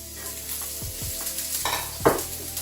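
Sliced onion hits a hot pan and sizzles steadily, with a few low thumps and scrapes of stirring and a louder hissing burst near the end; no one speaks.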